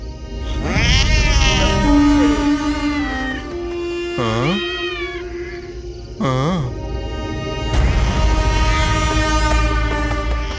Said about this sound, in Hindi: भाई बिल्ली ने रास्ता काट दिया